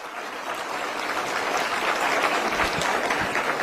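Enthusiastic audience applause for MP Bansuri Swaraj at a Delhi government event, dense steady clapping that holds strong and continuous throughout, close and loud with no talk over it.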